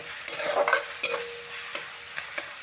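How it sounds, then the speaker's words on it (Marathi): Curry leaves, ginger and garlic fry and get stirred in a pan for misal, a steady close sizzle broken by sharp scrapes and clinks of the spoon, with no talking. "कढीपत्ता चांगला मस्त पैकी असा तळून घ्यायचा"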